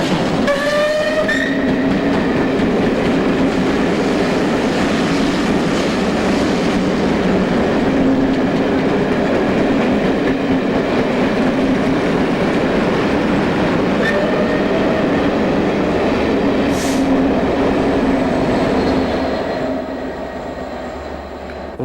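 A West Country Pacific steam locomotive and train roar past at close range through Maidstone East, a heavy rumbling rush with rhythmic clatter and a brief whistle, fading slightly at the end.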